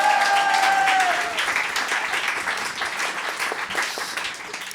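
Sustained clapping from an audience at an acoustic concert at a farm comes as a dense, even patter after a brief spoken phrase and tapers slightly toward the end.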